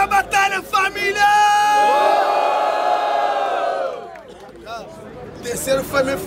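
A rap battle crowd roars, cheers and shouts in a loud sustained wave, with an emcee's hype shouting before and after it.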